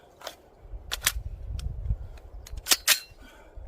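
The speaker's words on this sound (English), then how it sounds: "throw some rounds down range and see if we can hit anything." Rifle rounds fired down range at an outdoor range while testing a Gideon Optics Guardian 1-10x28 scope: a few sharp reports, two close together early, another pair near the end, over low rumbling background.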